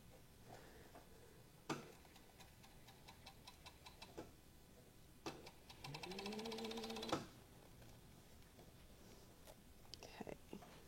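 Sewing machine stitching fabric, a short whirring run of rapid stitches with a rising and falling motor tone, set among scattered clicks and handling noises and a low murmur of voice.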